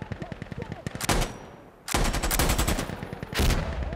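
Rapid bursts of M60 machine gun fire crackle in the shooter game Insurgency Sandstorm, with a burst, a brief lull, then a longer sustained stream of rounds and a final short volley, all close and loud.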